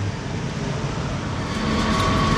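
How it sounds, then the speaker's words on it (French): Inside Antwerp's four-level train station, a steady, fairly loud wash of rumble and hiss fills the air, with low rail and train noise rolling beneath the crowd hum and growing slightly stronger toward the end. "La gare d'Anvers sur 4 niveaux"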